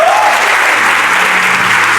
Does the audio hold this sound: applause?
yes